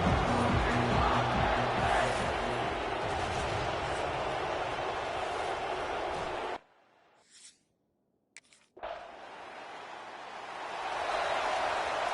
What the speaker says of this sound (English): And this crowd coming to life here, trying to help the defense get a stop.